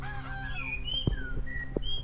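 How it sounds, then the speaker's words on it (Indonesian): Birds sing outdoors beside a house on a mountain, with whistled calls and a rooster-like crow over soft background noise, fairly close and clear, with no talking. "langsung disambut sama burung-burung yang berkicau, sangat indah sekali suaranya"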